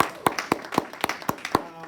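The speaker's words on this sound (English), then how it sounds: "Let's give Lisa a big round of applause." Scattered claps from an audience at a summit event, a handful of sharp, evenly spaced hand claps, fairly close and sparse rather than a full ovation.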